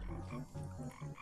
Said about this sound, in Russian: Ой, лягушка сидит.